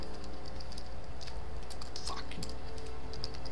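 Rapid clicking keystrokes on a computer keyboard while entering Skyrim console commands on PC, fast irregular taps close to the mic, with a muttered curse.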